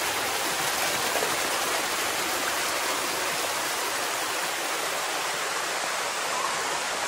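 River water rushes steadily downstream past a walker, a dense, loud and unbroken wash of noise with no voices heard.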